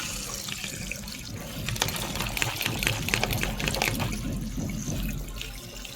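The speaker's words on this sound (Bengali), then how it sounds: "ধুয়ে নেব ফুলকপি আর শিম।" Cauliflower and beans are washed in water, a steady splashing and running-water wash close by that holds through the whole stretch, with brief rattles and knocks of the vegetables and container, and no talking.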